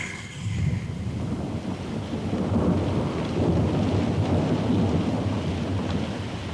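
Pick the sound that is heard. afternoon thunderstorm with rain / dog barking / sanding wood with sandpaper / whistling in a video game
afternoon thunderstorm with rain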